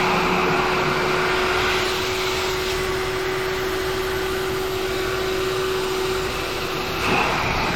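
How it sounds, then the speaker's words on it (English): A shop vac blows air through the radiator of a 2003 Cobra to push out coolant, making a loud, steady, continuous roar with a fixed tonal whine, close and without talk. "Now take that and stick it on the radiator and it's going to blast air through there"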